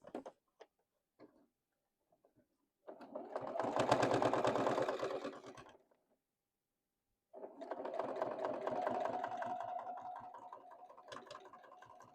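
A sewing machine stitches a boxy bag in two runs of rapid, even mechanical pulsing, a few seconds each with a pause between, preceded by scattered clicks from handling.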